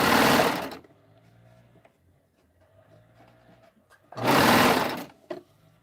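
Up close, a sewing machine stitches a pillow seam in two loud, steady runs, separated by a long quiet stretch with faint mechanical hum and small clicks.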